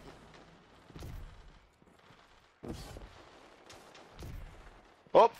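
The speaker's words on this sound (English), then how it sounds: "that's a shotgun" Shotgun fire in the video game Destiny, during an Iron Banner match: a few separate heavy blasts spaced a second or two apart, with a sharper, louder burst near the end over a low game background.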